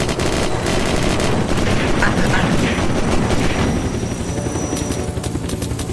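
Steady loud roar of a helicopter in the game Unturned, with dense crackling bursts of gunfire layered over it throughout, continuous and close with no clear pauses.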